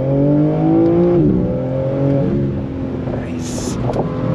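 A 2022 BMW M4 convertible accelerating hard at full throttle, engine note climbing through gears with a shift around the middle, loud and close, with a person talking over it.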